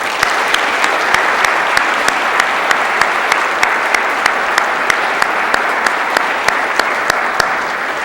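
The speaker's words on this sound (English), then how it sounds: "I want to give R.C. Slocum a round of applause" Audience applause for R.C. Slocum at a Startup Aggieland elevator pitch competition: a steady, dense wash of many hands clapping from a large crowd, sustained evenly throughout with sharper individual claps standing out.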